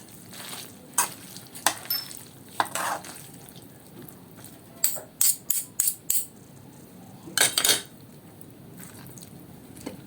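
Leftover elbow macaroni with cheese is stirred in a pan, giving short bursts of wet squishing and scraping strokes, some quick and clustered, over a faint background sizzle.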